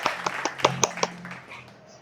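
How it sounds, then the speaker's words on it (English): Hand clapping during a children's phonics lesson: about six quick, evenly spaced claps in a steady rhythm over roughly one second, fairly close and moderately loud, then fading into a quiet background with a faint low hum. "Did you clap when you heard the sound ah?"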